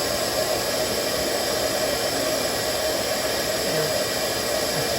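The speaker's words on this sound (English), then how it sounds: "with the vacuum on there" A vacuum pump hisses steadily on the valves of a rebuilt 1954 Kaiser Darrin engine, a constant airy whoosh with a faint hum underneath, unbroken and moderately loud.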